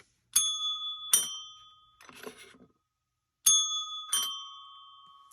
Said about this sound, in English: Yes, my symphony of bells.